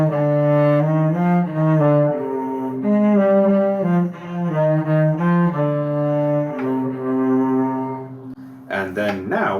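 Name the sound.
cello playing Gavotte in C Minor, bars 12-16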